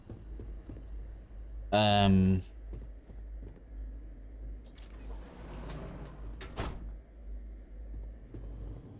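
A ship door in the sci-fi video game Starfield slides open with a short loud mechanical whir, followed by softer rustling movement over a steady low hum, with someone talking quietly.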